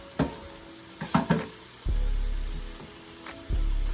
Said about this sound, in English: we got this chicken on her sizzle